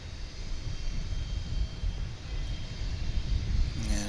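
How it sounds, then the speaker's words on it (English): Airliners on a runway at DFW airport produce a steady, broad jet engine rumble and roar at moderate distance, continuous and without speech, with a faint higher tone creeping in near the end. "we've got the UPS flight waiting to take off. So we've got a lot of activity here on runway 18 left."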